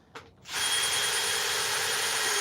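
A power drill driving a screw into wood: a brief tap, then the motor spins up into a loud, steady whine that holds for the rest of the moment, close by with no talk.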